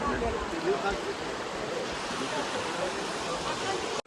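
A small mountain stream runs with a steady, broad rushing hiss that stays even throughout, while a person talks over it.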